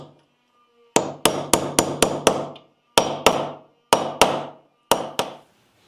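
Sharp hammer strikes on a nail set driving a nail into an old wooden farmhouse table, close and loud, coming in quick bursts of about six, three, two and two blows with short pauses between.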